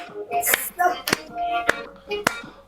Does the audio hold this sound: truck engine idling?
no